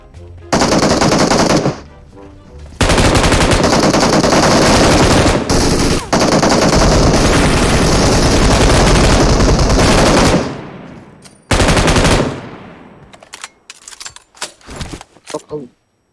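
Loud automatic gunfire in PUBG Mobile on the Erangel map comes in long sustained bursts, then breaks off into shorter scattered shots near the end.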